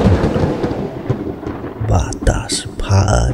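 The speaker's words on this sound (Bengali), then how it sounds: "আকাশে মেঘের গর্জন" Thunder on a dark evening, a loud low rolling rumble that swells and fades, with sharper cracks near the end and a voice speaking over it.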